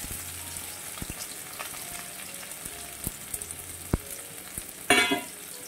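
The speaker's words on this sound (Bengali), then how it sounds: "কিছুক্ষণ পেঁয়াজটা নাড়িয়ে চাড়িয়ে আমি ভেজে নেব।" One large chopped onion fries in a pan with cumin, cardamom and cinnamon. A steady, close sizzle runs throughout, with soft clicks of stirring and a sharper crackling burst near the end.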